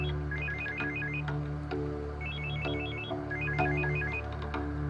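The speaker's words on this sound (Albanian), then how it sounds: "mund t'i përgjigjem njërë telefonit" Telephone ringing with a repeating electronic melodic ringtone, bursts of rapid chirping notes recurring several times over a low steady hum in an indoor scene, moderately loud and with no talk.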